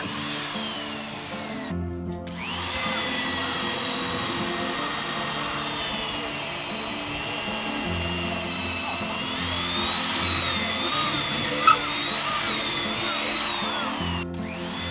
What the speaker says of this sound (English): a 24mm drill is used for the hold downs